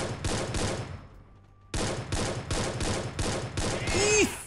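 Rapid bursts of automatic gunfire ring out in the battle royale game Free Fire, loud and close, broken by a short lull before the volleys resume, with a brief rising electronic tone near the end.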